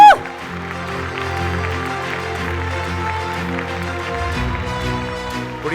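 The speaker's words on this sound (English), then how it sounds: "Big loud cheer, everybody." An awards show audience fills a hall with sustained applause and cheering, a dense steady roar of clapping and voices over music throughout.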